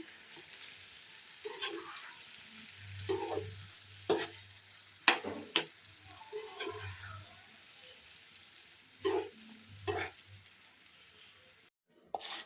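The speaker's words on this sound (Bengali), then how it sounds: "এবার পেঁয়াজের সাথে মাংসগুলো কিন্তু ভাজা ভাজা হয়ে যাবে" Meat and onions fry in a pan, a steady sizzling hiss running under intermittent clinks and scrapes of stirring, close up, with no talk.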